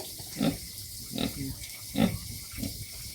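Several pig grunts behind a vegetable garden at a backyard pen, four separate low snorting calls about every half second to second, moderately close and alone without talk.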